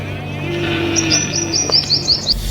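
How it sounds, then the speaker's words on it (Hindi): Bright, high bird chirps and tweets come in quick repeated bursts, fairly close, over a steady low hum and faint distant traffic. "पेड़ों पर बैठे रंग बिरंगे और चहकते परिंदों को देख दिल बाग बाग उठता है"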